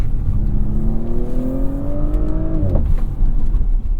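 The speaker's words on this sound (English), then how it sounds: "So as I come around these tight corners, I'm not even full throttle." A 2024 Audi S4 takes tight corners below full throttle, its engine note climbing smoothly in pitch and then dropping off abruptly before a steady drone resumes, close and loud, with no voices.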